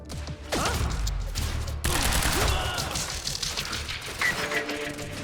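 Gunfire in the video game Quantum Break comes as dense, loud bursts of rapid shots with booming impacts and whooshing effects, continuing through most of the clip.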